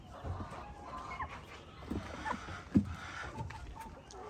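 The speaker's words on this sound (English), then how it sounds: "We got roosters here." Chickens and a rooster cluck softly at a distance on a small farm in Ghana, with one brief louder squawk midway, against low outdoor background noise.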